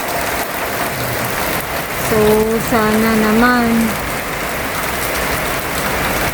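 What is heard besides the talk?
heavy rain at house construction site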